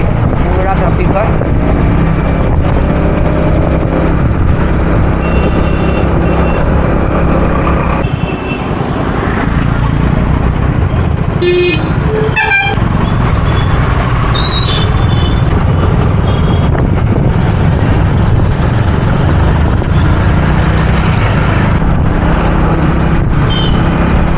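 Heavy trucks and other vehicles pass on a dusty road in an industrial area carrying only company traffic. A loud, continuous roar of engines and road noise fills the scene, broken by a brief hiss like an air brake.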